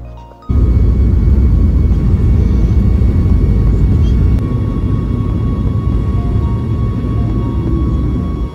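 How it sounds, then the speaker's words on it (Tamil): Jet airliner taking off from Oman bound for Doha, heard from inside the cabin as a loud, steady engine roar that surges in abruptly and holds constant. "ஒமான் டு தோஹாக்கு வந்துட்டு ஃப்ளைட் கிளம்பியாச்சு."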